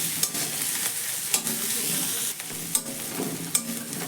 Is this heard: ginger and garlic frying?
yes